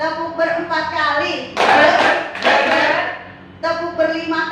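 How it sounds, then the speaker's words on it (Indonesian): Group of people clapping together in a loud, dense burst of claps close by, with voices speaking before and after. "Tepuk ber 4 kali."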